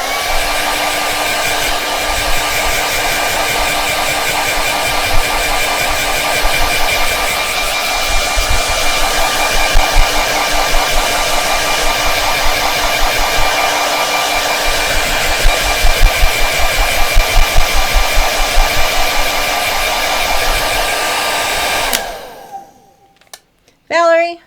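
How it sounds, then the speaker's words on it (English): A hair dryer runs loud and steady for about twenty-two seconds, with a constant whirring hum, then cuts off abruptly near the end. Brief sounds follow once it stops. "I'm going to take the hairdryer out, plug your ears."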